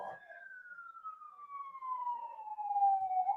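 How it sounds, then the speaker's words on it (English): Police car siren wailing near a college baseball ballpark during a South Carolina at Kentucky game, a single steady descending tone sweeping down slowly, fairly clear and continuous with no talk. "what is up with the freaking police siren?"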